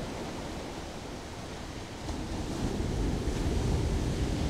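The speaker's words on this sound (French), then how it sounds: "Nous avons vraiment beaucoup de chance sur cette belle plage de la Côte des Basques d'avoir des vagues de telle qualité." Ocean waves roll onto Côte des Basques beach in Biarritz during a women's longboard surf contest, a steady distant wash of surf that swells slightly louder toward the end.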